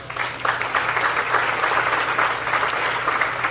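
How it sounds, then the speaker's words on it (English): An audience at the Keizer Iris festival opening applauds a car show organizer, with a full, sustained round of clapping that stays loud and steady throughout. "Give him a big hand applause."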